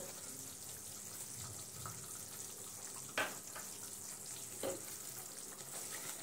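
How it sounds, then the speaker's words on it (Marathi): A spoon stirs eggplant bharit cooking in a pan, with a soft continuous sizzle and two brief scraping clatters of the spoon against the pan. "बघा, आपण चमचा फिरवून घेऊया अगोदर"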